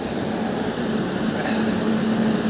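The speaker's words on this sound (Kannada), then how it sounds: "ಇಂಜಿನ್ ಸೌಂಡ್ ಇದೆ" A train engine idles at a railway platform, giving a steady low hum with a faint tonal drone and broadband rumble, continuous and fairly loud, with no clear speech over it.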